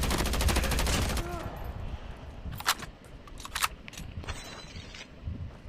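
A Type 25 assault rifle fires in a battle royale video game: a rapid burst of close gunshots, then a few short, sharper volleys over faint background sound.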